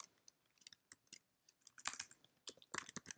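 Irregular keystrokes clatter on a computer keyboard as a MySQL dump command is entered in a terminal, quiet and close, in short bursts with brief pauses and no talk.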